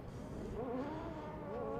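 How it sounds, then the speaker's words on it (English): Aussie Racing Cars roll down onto the grid at Sydney Motorsport Park, a steady low engine drone with rising and falling revs, fairly loud and continuous with no one talking. "the cars are moving down onto the grid"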